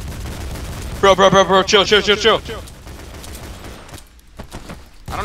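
Gunfire from an online shooter video game with shotgun and assault rifle, heard as a dense rapid burst of shots lasting about a second and a half, followed by quieter game sounds while someone talks briefly.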